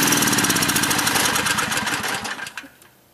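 A generator running on wood stove smoke gas chugs with a loud, close, rapidly pulsing engine drone, then is shut off. The running sound fades and sputters out into near silence.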